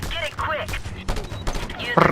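Bursts of gunfire crackle in quick volleys in the video game Just Cause 2 while someone talks excitedly over them.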